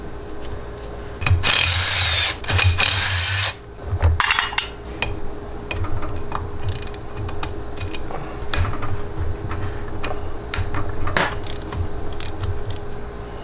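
Power tool rattles through the head bolts on a Honda CRF450 engine during a teardown, in several short loud bursts followed by clinks and knocks of metal parts and tools.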